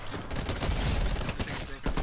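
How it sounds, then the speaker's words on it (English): Rapid bursts from a charge SMG in a video game, a dense rattling volley of shots that fills the short moment at close range. "I want to use this charge SMG on these guys."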